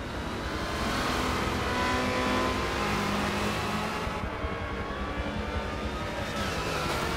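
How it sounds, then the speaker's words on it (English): Race cars in a Ford versus Ferrari endurance racing game at Daytona roar continuously, a dense layered engine drone with cars passing, steady and loud throughout with no talk. "as we see Claim in his Marlboro livery here, being chased down by several drivers, a combination of Ferrari Ford drivers."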